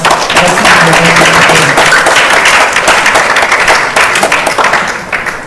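A congregation applauds for a birthday at a Vaishnava gathering, sustained dense clapping filling the space for several seconds before tapering slightly at the end, with a few voices faintly mixed in.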